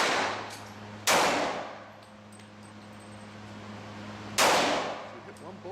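Two sharp, loud reports from a Glock 27 .40 caliber pistol at a shooting range, spaced a few seconds apart, with a low hum between shots.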